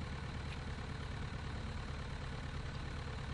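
A piston aircraft engine idles steadily in Flight Simulator X, a constant, fairly quiet low rumble that holds without change throughout.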